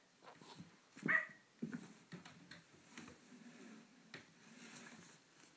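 A couple of faint, muffled yaps from a toy dog near the start, followed by quieter shuffling and handling noises.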